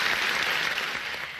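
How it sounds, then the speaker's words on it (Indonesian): Dense, steady applause from a crowd, a continuous wash of clapping with no gaps. "Bapak Ibu juga dapat memberikan tepuk tangan yang meriah dimanapun Anda"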